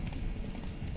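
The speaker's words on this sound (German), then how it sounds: "Lauf doch bitte weiter, Pferd." Horse hooves clip-clop steadily in The Witcher 3, a continuous fast rhythmic patter of galloping through the whole second, close and moderately loud.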